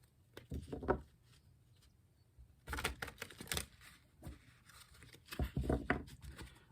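Hand shuffling of a tarot deck, with repeated crisp riffling bursts and papery patter in several clusters, close up and moderately quiet, no voices present.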